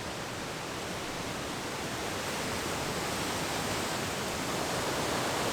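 A steady, dense roar of a snowmelt-fed waterfall, constant and loud throughout with no breaks.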